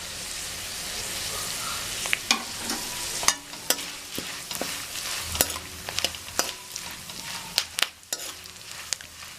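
Spices, peanuts, dal, green and dry chillies and curry leaves frying in oil over a low flame, with a steady sizzle broken by sharp crackles and pops and occasional stirring.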